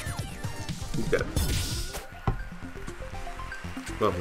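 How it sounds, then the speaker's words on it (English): Someone drinking water up close, wet sips, gulps and liquid slurps in short bursts, then quieter swallowing and small sounds. "I have now finished my water."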